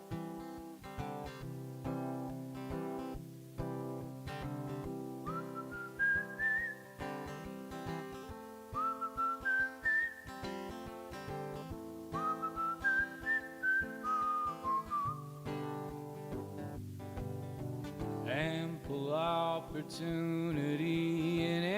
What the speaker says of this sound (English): it features whistling, so I'm going to try my best.